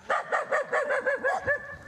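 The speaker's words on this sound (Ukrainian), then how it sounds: "Доукола руїна та гавкіт безпритульних собак." Stray dogs barking in a ruined, war-damaged street, a steady series of about eight sharp, moderately loud barks in quick rhythm, fairly close and heard alone with no talk.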